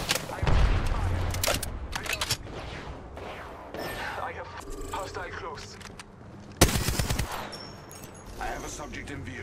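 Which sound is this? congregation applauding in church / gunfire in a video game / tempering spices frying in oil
gunfire in a video game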